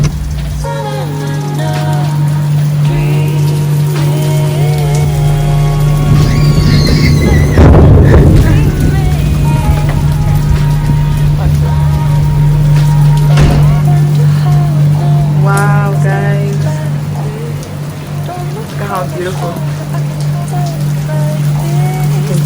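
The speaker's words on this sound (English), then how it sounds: "it's raining" Steady rain falls on outdoor surfaces, a constant wash with a strong low hum throughout, while a person talks over it and a brief louder burst of noise comes midway.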